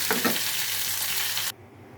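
A garlic tempering with curry leaves sizzles loudly in a pan, a dense, steady, close frying hiss with a few crackles near the start, cutting off abruptly after about a second and a half.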